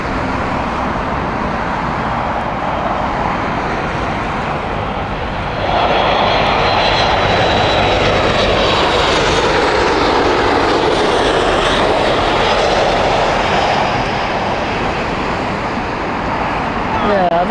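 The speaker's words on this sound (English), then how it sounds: "Not many 737s anymore here at Heathrow." A Boeing 737 at Heathrow Airport roars past with a loud, sustained jet engine noise that swells midway, with people talking beneath it.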